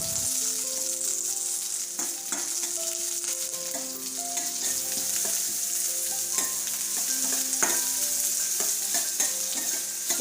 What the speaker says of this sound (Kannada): ಅರ್ಧ ನೀರುಳ್ಳಿ, 2 ಹಸಿಮೆಣಸು, ಸ್ವಲ್ಪ ಬೇವಿನ ಸೊಪ್ಪು ಹಾಕಿ ಸ್ವಲ್ಪ ಹೊತ್ತು ಬಾಡಿಸಿಕೊಳ್ಳುವ